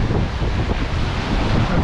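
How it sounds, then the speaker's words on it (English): Roaring wind of around 17 knots and rushing ocean waves fill the air aboard a solo sailboat crossing the Pacific toward Nuku Hiva in French Polynesia, a loud, steady broadband wash with constant microphone buffeting and no voices. "now I have 17 knots of wind, so I'm really flying."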